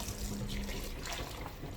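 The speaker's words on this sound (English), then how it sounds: "Just fill up water in the same blender that I blended the soya" Plain tap water runs steadily into a blender jar that was just used for blending soya, a continuous close rushing pour heard alone for under two seconds.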